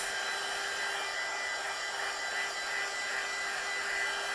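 A hair dryer blows steadily and evenly to dry watercolour paint on a die cut and stamped card, a constant close whooshing hum with no pauses and no talking.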